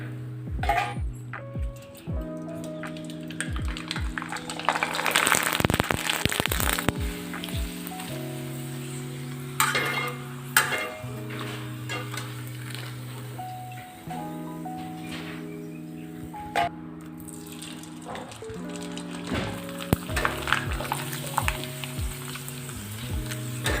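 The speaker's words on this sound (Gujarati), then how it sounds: "અત્યારે અહીંયા મેં આટલા પાપડ તળી લીધા છે." Papad frying in hot oil, giving a steady crackling sizzle throughout, with louder bursts around a few moments, set under prominent background music.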